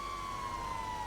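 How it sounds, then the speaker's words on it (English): A wailing emergency vehicle siren sounds in a GTA roleplay game, a steady, slowly falling tone that is moderately faint over a noisy background. "the sirens are quite fucking loud"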